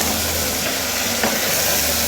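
Onion and a handful of mint sautéing in a pan, heard as a steady, loud broadband sizzle with a faint scrape of stirring partway through, no voices.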